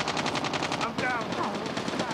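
Rapid automatic gunfire in Call of Duty Mobile's Hardpoint mode, loud, dense bursts of shots crackling without pause, with a brief game voice cue partway through.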